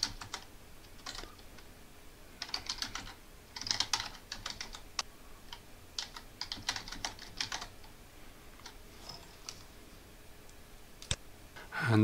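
Someone types a password on a computer keyboard to log in, quiet bursts of close key clicks in uneven runs with brief pauses and a final sharper keystroke, no talking.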